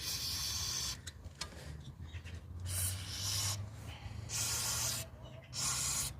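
Contact cleaner sprayed into the bolt holes of a Renault 9 Broadway wheel hub after a broken wheel stud was removed: three close, loud hissing bursts, each about a second long, separated by short pauses over a low background hum.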